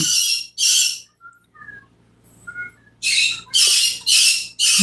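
Pet birds let out loud, harsh squawks close by, a pair of bursts at the start, then a few faint chirps and whistles in a lull, before a run of rapid, piercing squawks.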